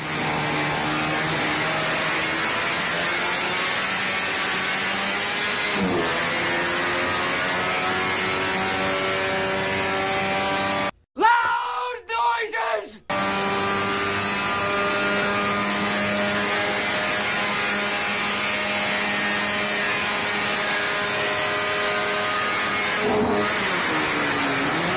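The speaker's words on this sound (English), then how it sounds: "I slammed out a nice little shed skid out of excitement" A BMW E30 time-attack build engine roars continuously at high revs through a burnout skid, loud and close, with a brief two-second cut midway before the sustained revving resumes and holds steady to the end.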